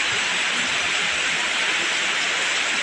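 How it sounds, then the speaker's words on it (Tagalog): Steady rain falling outside a house in Davao during the wet season, a dense, even hiss that holds without a break the whole time, with no voices over it. "Ulan na po dari guys."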